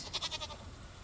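A goat in the Stardew Valley farming game gives a short run of quick, pulsing bleats, soft and close, alone without talk.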